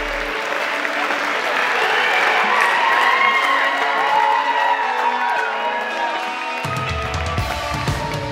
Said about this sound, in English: give a huge round of applause for Mr.